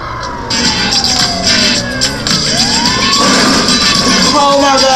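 Ambulance siren wailing in GTA 5, rising and falling sweeps over a busy crowd-like game background, fairly loud and continuous with voices talking over it.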